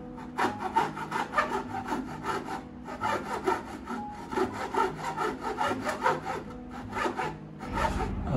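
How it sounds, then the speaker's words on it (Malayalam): A hand saw cuts a wooden pallet in half with steady back-and-forth rasping strokes, close and fairly loud, keeping an even rhythm throughout. "അപ്പോൾ അതിനായിട്ട് ഞാൻ ഇതിൻ്റെ പകുതി വെച്ച് ഞാൻ ഇതിനെ കട്ട് ചെയ്യും."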